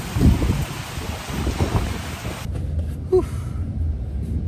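Rain with gusty wind buffeting the microphone, a rough rumbling wash that thins out partway through while the patter continues.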